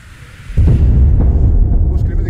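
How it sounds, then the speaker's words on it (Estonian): Distant explosions rumble near the front line in a Donetsk war zone, a deep booming roll that swells suddenly and sustains heavy low rumbling with faint crackle afterward, heard alone without talk. "kuskil midagi plahvatab , kärgatab"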